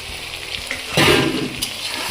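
Potatoes tipped into a pan of lightly browned onions burst into a loud sizzle, with a steady crackle of frying before and after the surge, and no voices.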